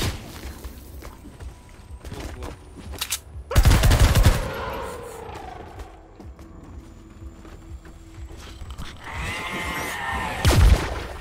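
Gunshots from Fortnite Save The World in the Plankerton forest: two loud bursts of rapid fire stand apart from quieter game ambience and tonal effects, the first burst longer and the second shorter near the end.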